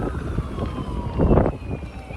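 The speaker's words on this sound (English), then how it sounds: "I've been hearing nothing but sirens since I got in town" Town sirens during a tornado outbreak wail steadily in the distance, the pitch sliding slowly downward, with a burst of louder rumbling noise partway through.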